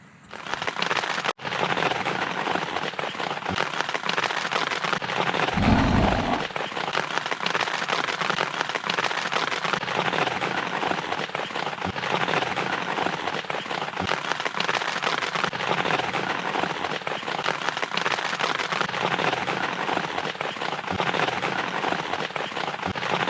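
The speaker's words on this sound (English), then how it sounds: "you can probably hear the rain has been pouring for like at least an hour and a half" Heavy rain pours onto a tent pitched at a winter fishing campsite, a continuous loud hiss of drumming drops that never lets up, with one brief louder thump near the start.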